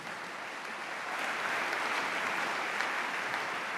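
Church congregation clapping steadily during a sermon, a dense wash of applause that swells slightly after a second and carries on evenly, heard at moderate distance with no talk over it.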